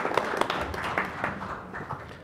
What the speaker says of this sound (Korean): 박수로 맞이해 주시기 부탁드리겠습니다.